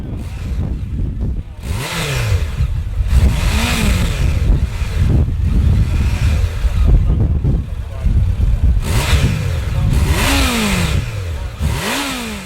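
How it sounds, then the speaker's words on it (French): Honda CB1100 vintage roadster exhaust revs repeatedly, each pull rising sharply in pitch and dropping back, loud and close, with a voice talking over the engine. "L'échappement offre à ce titre une sonorité séduisante devenant plus aiguë et puissante dans les tours"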